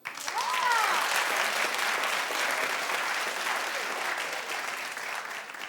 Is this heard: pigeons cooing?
no